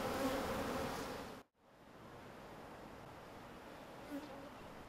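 Honeybees buzzing around a hive kept in the middle of a city: a dense, steady drone that cuts out briefly after about a second and a half, then resumes slightly softer.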